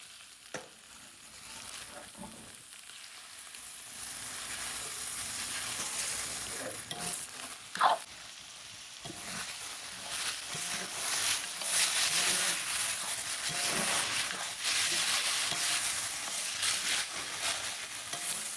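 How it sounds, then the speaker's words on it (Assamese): Steady sizzling of raw duck meat frying in oil with onions, with occasional stirring scrapes and a brief louder clatter partway through, no voices. "কেঁচা মাংস দিম ইয়াতে দিয়াৰ পিছত ভাজি থাকে"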